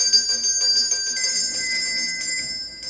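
Several servant call bells rung by handle and wire at Dundarn Castle, bright similar-sounding metallic rings repeating in quick succession, loud and close with lingering overlapping tones and no talking.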